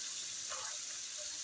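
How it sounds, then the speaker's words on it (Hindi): Water pours into a cooking pot of beef and tinda curry, with a soft, steady gushing stream that stays faint and continuous throughout, with no talking. "थोड़ा सा हम पानी ऐड करेंगे।"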